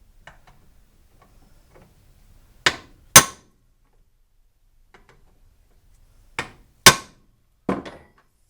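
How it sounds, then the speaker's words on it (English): A hammer taps a control arm bushing into place, five sharp metallic knocks in two groups spaced by quiet pauses, close and crisp with faint shuffling in between. "we're just going to tap it a few times with a hammer"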